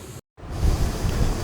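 Water pouring down the Seven Sisters waterfall near Cherrapunji, Meghalaya, making a steady broad rushing roar that fills the whole clip after a brief dropout.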